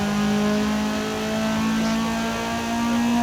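A Honda Civic EK9 Type R engine in Forza Horizon 5 drones steadily at mid pitch, rising and settling slightly as it revs, with no speech over it.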